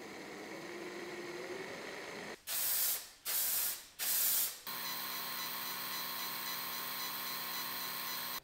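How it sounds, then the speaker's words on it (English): Metal etching spray for laser engraving hisses from an aerosol can in three short bursts, each about half a second, close and crisp, set against a steady mechanical hum before and after. "Brilliance makes several types of etching sprays that help the engraving and marking of materials."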